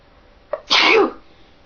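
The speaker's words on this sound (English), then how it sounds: "Okay, I had to sneeze." A woman lets out a single loud, close sneeze, preceded by a short sharp intake of breath and followed by quiet.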